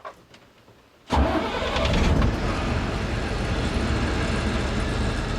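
An Ashok Leyland Viking bus with Prakash Zedone bodywork cranks and fires about a second in, its diesel engine jumping from near silence to a loud, steady rumbling idle that continues to the end.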